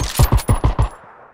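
A rapid burst of five sharp gunshots in PUBG, evenly spaced and close, ending in a brief fading echo.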